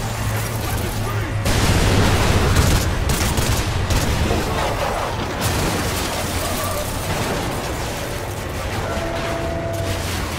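Dense gunfire and a blast rage in the Call of Duty: Ghosts campaign, continuous loud rattling fire and rumbling explosion with shouted voices mixed into the battle.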